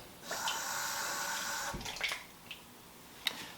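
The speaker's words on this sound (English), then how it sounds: "About 100 ml of water, cold water" Cold water, about 100 ml, runs from a tap into a pan for Northeastern Chinese three-tastes-of-the-earth cooking, a steady splashing stream for over a second, then stops, followed by a few faint clinks and bumps.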